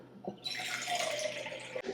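Filtered water poured into a stainless steel pot, a soft tap then a continuous splashing, rushing stream that runs for over a second before cutting off, fairly quiet and close.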